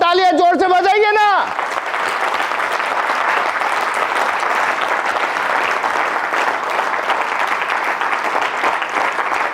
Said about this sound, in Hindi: तो एक्साइटेड होकर तालियां जोर से बजाइए ना